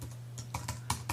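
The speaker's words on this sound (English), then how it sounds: "Some trouble with my typing here today." Fast typing on a computer keyboard, with close, distinct keystrokes in an uneven burst over a low electrical hum.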